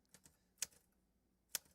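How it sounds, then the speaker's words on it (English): A typewriter clacks with a few sparse, sharp keystrokes, two of them louder than the rest, close and faint, with no voices. "I'll figure out the caps lock in this typewriter"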